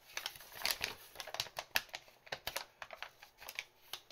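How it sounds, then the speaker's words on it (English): A paper instruction leaflet for an Airfix 1/72 scale Focke-Wulf Fw 190D model kit is opened and its staple is prised out, making a string of close, sharp crinkles and clicks that come in irregular bursts. "I can now open this instruction leaflet up and try and pop that staple out of the instruction leaflet."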